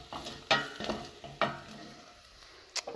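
Spices being stirred as they fry in a pan for a coconut chickpea curry, a few scraping strokes over a soft sizzle, close up with short pauses between movements.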